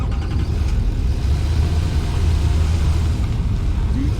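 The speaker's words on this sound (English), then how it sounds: "Bring the tractor up here and get ready to scoot across." Tractor engine in the Satisfactory video game, a steady low rumbling drone that holds even and fairly loud throughout with no talk over it.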